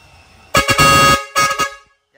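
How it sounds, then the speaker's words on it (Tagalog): A Bosch Europa dual trumpet car horn blares loud and close, one long sustained honk followed by a shorter, choppier blast. "Yan, yung dual trumpet naman yun yung pangatlo."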